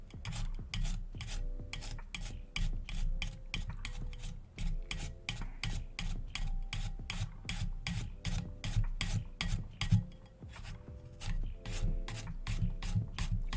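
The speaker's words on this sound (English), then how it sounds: "Why am I grating a zucchini" A zucchini rubbed by hand against a grater, steady rasping strokes repeating in a quick, even rhythm close up, with no voices.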